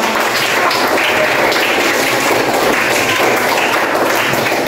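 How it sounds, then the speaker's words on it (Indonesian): A classroom of students claps together, a dense, steady patter of hands held for several seconds without a break. "Tepuk tangan dong buat semua."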